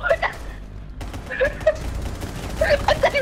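Video-game gunfire crackles in short bursts of rapid shots, loud and close, with players' voices talking over the shooting.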